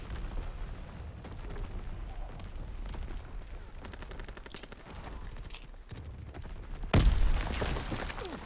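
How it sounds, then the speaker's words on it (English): Artillery fire in a war video game sounds as a long spell of distant rattling gunfire and crackle, then a heavy, loud booming impact near the end. "Firing for full effect."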